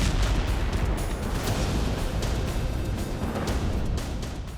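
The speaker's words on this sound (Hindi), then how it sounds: "इजराइल के हाइफा खाड़ी में तेल रिफाइनरी के पास जोरदार धमाके हुए।" Explosions go off near an oil refinery in Haifa Bay, Israel, during wartime fighting: a loud, unbroken rumbling roar with dull booms pulsing through it, with no voices.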